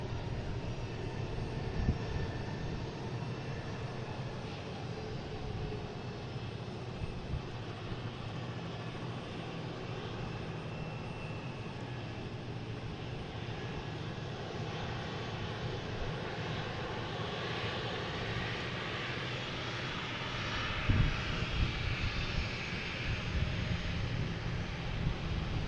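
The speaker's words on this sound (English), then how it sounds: "You have a JetBlue heading to Reagan in A220." JetBlue Airbus A220 jet bound for Reagan, heard at Boston Logan as a steady, moderately distant engine roar sustained throughout, with a slight swell near the end.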